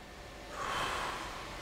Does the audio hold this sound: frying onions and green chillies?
no